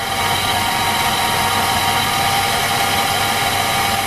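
Nissan Xterra engine running steadily after starting following ignition troubleshooting, a constant close idle hum with no variation.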